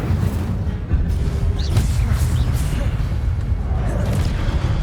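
A fire spell cast in the Hogwarts Legacy video game, a dense rumbling boom with whooshing bursts that sustains loudly across the whole moment amid other game combat noise.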